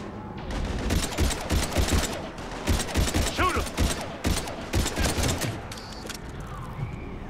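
Gunfire in the Mass Effect 3 video game: loud, rapid bursts of shots with mechanical clatter, broken by brief gaps, and a voice heard faintly in the mix.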